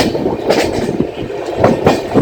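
The Vikram Simhapuri Express pulls out of Tenali Junction with a loud, close rumble and repeated clickety-clack beats of the wheels over rail joints.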